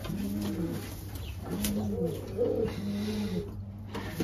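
A racing pigeon hen coos repeatedly, soft, low rolling calls arriving in a steady rhythm close by, with no talking.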